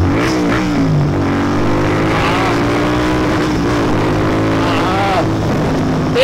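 Royal Enfield Continental GT 650 motorcycle accelerating in first gear, a loud, steady, close engine roar with its pitch rising and wavering as revs build and hold, while someone talks over it.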